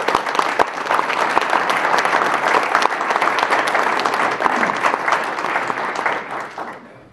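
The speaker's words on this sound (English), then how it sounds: "Big round of applause for them." Sustained applause from the audience at a school board candidates forum, a dense steady wash of many hands clapping that holds for several seconds and then tapers off at the end.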